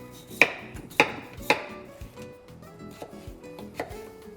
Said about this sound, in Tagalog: Hiwain lang natin or i-dice lang natin ito.